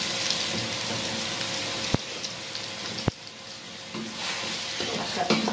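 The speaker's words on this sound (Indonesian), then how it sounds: "Masukin jamurnya." Mushrooms tipped into a pan and stirred while frying for a pre-dawn sahur meal, with a steady close sizzle broken by two sharp knocks of the utensil against the pan and soft scraping.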